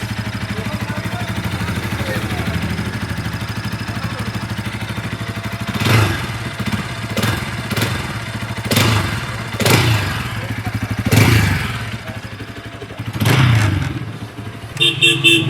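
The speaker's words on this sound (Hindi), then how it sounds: "जो एग्जॉस्ट की आवाज़ एक बार मैं दिखा देता हूँ, लाइक मैं सुना देता हूँ" Exhaust of a Bajaj Pulsar NS200 BS6 motorcycle, a steady low idling thrum close by, broken by several sharp throttle blips and thumps that swell and fade.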